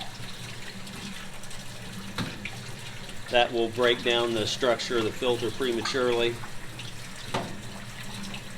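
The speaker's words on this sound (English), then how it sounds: "But just running the water across it, getting in the Velcro strips really good." Hot water running across a LaPierre Siro maple syrup filter during rinsing, a soft steady splash and patter heard under a person speaking.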